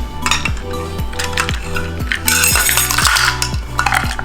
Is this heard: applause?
no